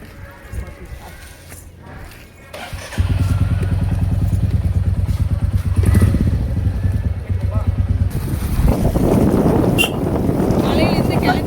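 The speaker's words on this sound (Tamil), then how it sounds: "எங்கள் வண்டி கிளம்பியாச்சு பாருங்க." A motorcycle pulls away from a hill temple and rides off, its engine running loud and steady throughout, with buffeting wind noise over the microphone and occasional voices.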